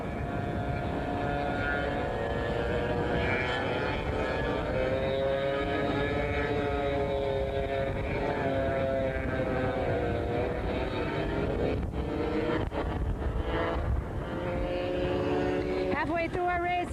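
Go-karts racing at a championship on Maui, a continuous buzzing engine drone with shifting pitch as karts pass, under a race commentator's talk.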